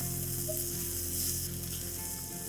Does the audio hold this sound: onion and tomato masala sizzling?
yes